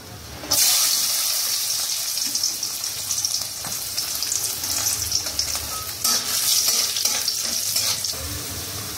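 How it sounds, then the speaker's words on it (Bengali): Cashews fry in hot oil, a steady close crackling sizzle that starts abruptly and carries on with light stirring clatter throughout. "এবার আমি এর মধ্যে কাজু আর কিশমিশটা দিয়ে দেবো"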